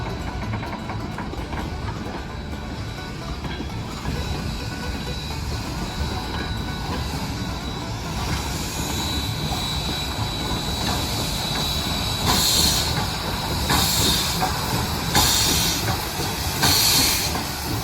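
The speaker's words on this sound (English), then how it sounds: "this locomotive is pulling the famed caboose train for the museum's visitors from the platform up into the tracks" A steam locomotive pulls a caboose train away from the platform at the Western Pacific Railroad Museum, with a continuous rumble and rail clatter and bursts of loud steam hiss toward the end.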